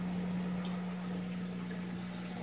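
Water runs steadily through a 1-inch Durso overflow weir in an aquarium setup, giving a constant quiet rushing trickle with a low steady hum beneath and no voices.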